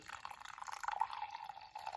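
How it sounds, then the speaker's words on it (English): Hot coffee poured into a cup, a faint, continuous liquid trickle with a gurgling tone that rises slightly as the stream runs. "Coffee time. Let's pour it up."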